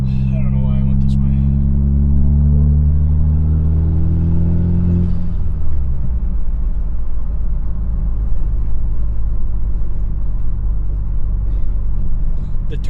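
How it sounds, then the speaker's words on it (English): Strong engine and turbo noise from a 2022 Subaru WRX (VB) fitted with a big turbo during a drive, rising in pitch over the first few seconds and then settling into a steady loud rumble with no talk. "The turbo compressor noise sounds pretty wicked though."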